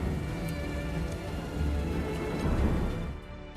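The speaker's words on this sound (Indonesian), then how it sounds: "Deras hujan diiringi petir menghiasi suasana gelap di malam itu" Heavy rain pours steadily at night, a dense continuous hiss with a faint low rumble of thunder swelling partway through, no voices.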